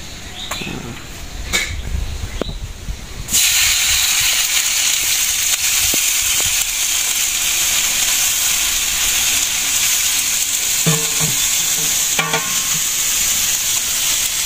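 Oil and taro pieces sizzling in a pan, a loud, steady hiss that starts abruptly as the taro goes in and continues with faint scraping and stirring.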